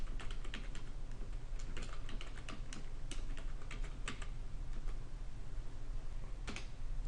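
Rapid clicking keystrokes on a computer keyboard, uneven bursts of typing with short pauses, close and fairly quiet over a low hum.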